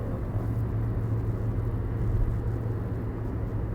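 A 2018 Toyota Yaris TRD with a CVT engine-braking, giving a steady low rumble of engine and road noise from inside the cabin, with no speech over it.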